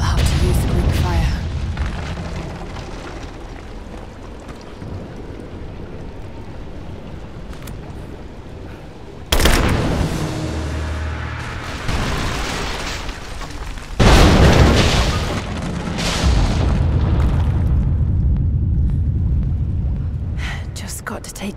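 A Greek fire vessel explodes against an unstable statue's supports in Rise of the Tomb Raider. Deep booms and crumbling bursts arrive around the midpoint and again later, loud over game ambience, while a voice talks through much of it.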